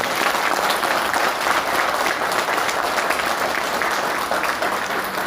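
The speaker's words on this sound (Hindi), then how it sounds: "तो गर्व की बात पे ताली बजनी चाहिए या क्या बजना चाहिए?" An audience claps at a business growth-plan presentation, continuous full applause with dense overlapping hand claps, loud and close, lasting the whole stretch without talking.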